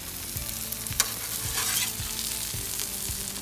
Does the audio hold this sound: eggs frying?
yes